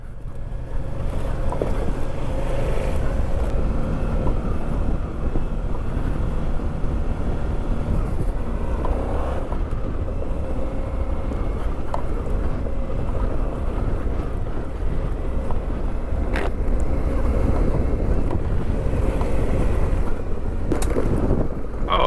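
A 2019 Suzuki V-Strom 650 on stock Battlax tires rides over rocky dirt, its engine a steady loud rumble close by with wind buffeting the microphone and gravel crunching throughout.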